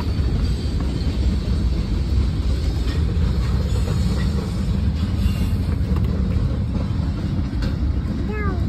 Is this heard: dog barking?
no